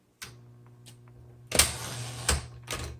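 Keys strike on a 1960s Smith Corona Electra 110 electric typewriter: a few sharp separate clacks, then a denser burst of quick typing over the steady hum of the machine, close and fairly quiet.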